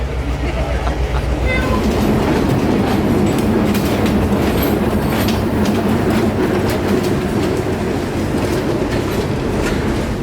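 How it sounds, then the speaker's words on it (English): A heritage train at the Florida Railroad Museum rumbles along steadily with rhythmic clickety-clack from the wheels, loud and close throughout. "here the train will stop"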